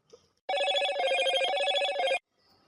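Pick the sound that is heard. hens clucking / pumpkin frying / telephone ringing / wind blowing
telephone ringing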